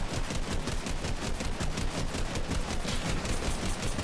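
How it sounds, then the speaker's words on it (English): Rapid, continuous gunfire in the battle royale game Fortnite, sniper shots among it, a dense rattling stream of shots at steady volume, fairly loud, no talking. "And I'm getting sniped at from all the way over there, too."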